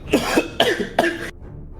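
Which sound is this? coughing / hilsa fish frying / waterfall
coughing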